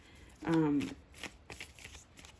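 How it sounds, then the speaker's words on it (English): Quick papery riffling of tarot cards being shuffled, with a brief voiced sound near the start and soft handling noises after. "I will be shuffling on camera"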